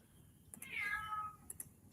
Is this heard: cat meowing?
yes